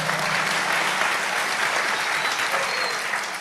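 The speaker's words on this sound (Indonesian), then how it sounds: "tepuk tangan dong." Dense audience applause at an Islamic religious gathering, a large crowd clapping steadily and loudly for a few seconds, broad and even with no single voice standing out.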